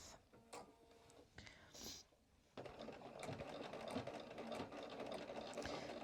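A sewing machine runs steadily, stitching black thread through pale orange fabric for a vest, with a few short bursts early on before a continuous, fairly quiet run of stitching fills the rest.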